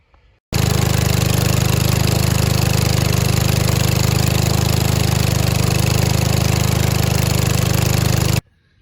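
A 23hp Kohler engine on a 2004 Ariens Zoom 2352 riding mower runs steadily and loud for several seconds after a sudden start, then cuts off; the engine has gas in its oil, smokes and may have a blown head gasket.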